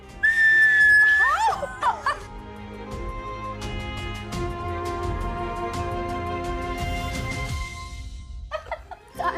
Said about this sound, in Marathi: मी तर शिट्ट्या पण वाजवणार आहे